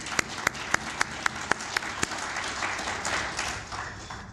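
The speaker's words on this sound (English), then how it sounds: "let us give him another warm round of applause" Audience applause for Dr. Shishi at a South African Qualification Authority event, opening with a few distinct sharp claps that swell into a steady, even round of clapping from a room of people.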